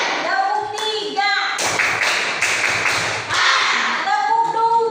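Schoolchildren's clapping game: repeated rounds of loud group hand claps in quick, rhythmic clusters, close by, alternating with children's and a teacher's voices speaking between the bursts.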